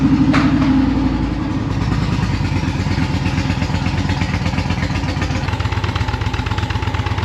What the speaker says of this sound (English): Now we got Freedom headers and RineHart exhaust.